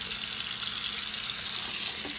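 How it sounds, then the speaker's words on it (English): Cold tap water runs steadily into a kitchen sink over blueberries being rinsed, a constant bright rushing stream with no pauses. "rinse the blueberries in the sink. So you just run them under cold water."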